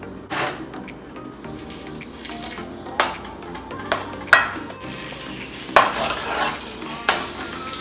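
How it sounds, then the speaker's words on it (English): Chicken pieces sizzling in hot oil in a pan, a steady hiss broken by repeated clinks and scrapes of a utensil turning the meat, close and clear with no talking. "You wanna hear a little sizzle once the chicken hits the pan."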